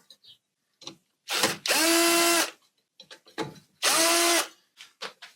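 Power screwdriver backing out screws on a drainage pump being serviced, two close, loud whirring bursts of about a second each with a rising-falling motor pitch, separated by clicks and small handling knocks.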